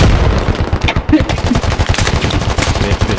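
Rapid bursts of automatic gunfire from the military shooter game Squad, loud and dense, with overlapping shots rattling almost continuously.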